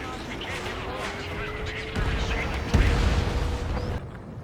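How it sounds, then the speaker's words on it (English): Long-range air-to-ground missile explosions in Ace Combat 7, heard as a low rumbling blast near two seconds and a sharper boom just before three seconds, set against steady aircraft and game noise. "LAGMs, otherwise known as long-range anti-ground missiles, are long-range air-to-ground missiles with a decently sized splash area capable of doing that right there"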